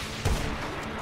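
A single sniper rifle shot in a video game, one sharp, loud crack with a low boom, standing alone over a constant background hum.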